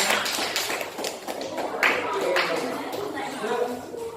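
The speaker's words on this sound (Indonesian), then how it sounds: "Oke, tepuk tangan ya." A classroom of children claps together in a burst of scattered hand claps and taps, near and fairly lively, while voices chatter over the applause.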